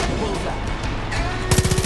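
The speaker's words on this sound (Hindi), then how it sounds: "बड़ी तेज गोलियां लग रही है उनके पास भी माउंटेन गन है" Far Cry 5 gameplay gunfire on PS4 Pro: scattered shots under game noise build into a loud, rapid machine-gun burst near the end.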